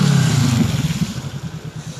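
A motorcycle engine rumbles close by on a Paris street near Châtelet, its low drone wavering and then fading slightly as it moves along, with no talk over it.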